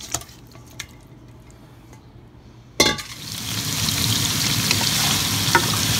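Pork tenderloin hits hot olive oil in a stir fry pan: after a quiet stretch with a few light clicks, a sharp clatter sets off a loud, steady, hissing sizzle that builds and holds to the end.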